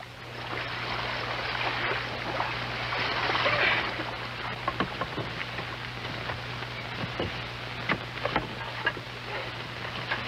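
A canoe moves through water under steady paddling, a soft watery wash with rhythmic dips and drips, moderately close.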